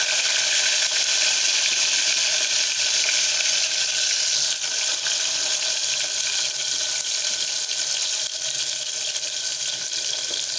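Onion and tomato sizzle in oil inside a pressure cooker, a steady loud hiss and crackle of frying that runs unbroken throughout with no talk.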